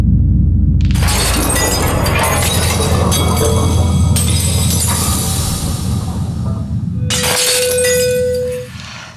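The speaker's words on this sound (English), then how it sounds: "the glass breaking" A wine glass breaks from sound resonance: a loud, dense burst of shattering glass and scattering shards, then a clear sustained ringing tone near the end.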